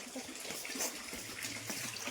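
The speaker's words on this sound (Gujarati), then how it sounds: "ચાલો પાણી ભર દઈએ વાસણ ધોઈ નાખીએ" Tap water runs steadily into vessels for washing dishes, a faint continuous gushing rush with no pauses over about two seconds.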